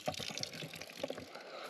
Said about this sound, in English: I have stopped to fill up on this beautiful mountain water